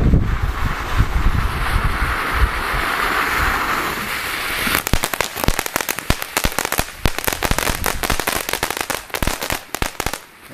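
A medium-size fountain firework from a Costco set hisses in a loud, steady spray, then breaks into dense, rapid crackling pops that continue to the end, close to the microphone, with wind noise.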